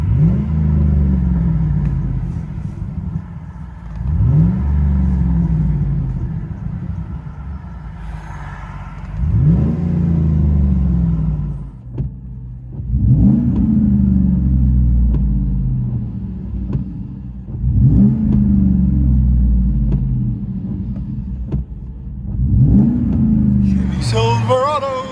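Chevy Silverado 5.3L V8 with Dynomax Race Bullet exhaust, heard from inside the cab, revving in repeated deep bursts, about five, each swelling and falling back to a rumbling idle between them.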